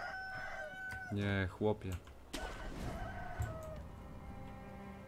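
Chickens in the video game Sekiro give a run of rapid, loud clucks and squawks in short bursts, followed by a rough flurry of game noise, while someone speaks over it.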